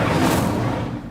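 An Incendio fire spell cast in the video game Hogwarts Legacy, a loud whooshing roar of flame that surges at once and slowly fades.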